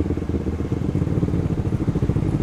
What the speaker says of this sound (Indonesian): Itu molis ya, motor listrik itu.